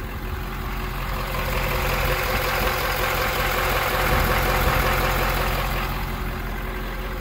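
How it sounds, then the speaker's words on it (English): A Ford F-250 Lariat pickup engine idles steadily at close range, a low continuous rumble with a slight swell in the middle and no voices. "I'll let you hear that engine run just for a second"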